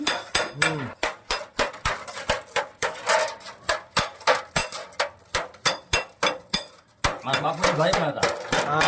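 Sharp metallic hammer strikes on tin sheet while a winnowing tray is shaped from a tin container, loud and irregular with brief pauses, then a denser stretch of clanking near the end; voices murmur faintly in the background.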